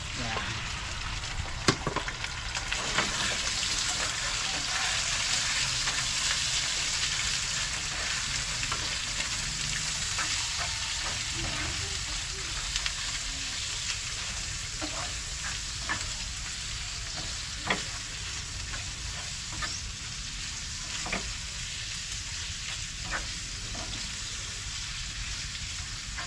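Garlic, onion and ginger fry golden brown in a pan for adobo, a steady close sizzle broken by scattered stirring taps and scrapes.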